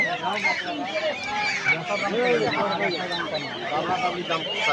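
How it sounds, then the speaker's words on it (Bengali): A crowd of Khaki Campbell ducklings at a village market keeps up dense, overlapping peeping and chattering calls, close and continuous, with market voices mixed underneath. "যে প্রচুর হাঁস উঠছে, হাঁসের বাচ্চা।"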